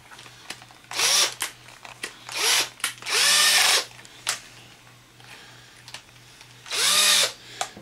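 A power driver runs Torx screws into an Xbox 360 during a red-ring repair, whirring in four short bursts of about half a second each, close and loud, with faint clicks and handling noise between bursts.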